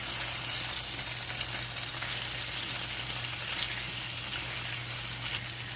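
Marinated beef strips sizzle steadily in a hot pan for a stir fry, a continuous, even crackling hiss with no voices over it.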